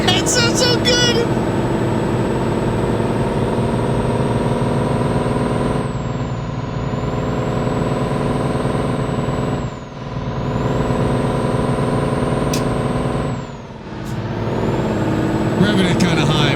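A Scania truck engine in Euro Truck Simulator 2 drones loudly and steadily at high revs, with a sustained tonal whine above and a few brief dips where the throttle eases off before climbing again.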